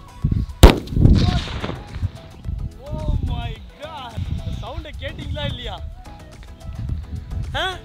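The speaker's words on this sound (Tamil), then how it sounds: "இப்போ டைகர் பாமையும் வந்து இன்னும் கொஞ்சம் நேரத்தில் வெடிக்க போகிறோம்" A Sivakasi tiger bomb firecracker goes off in one loud, sharp bang near the start, then several excited voices talk and shout over faint outdoor background noise.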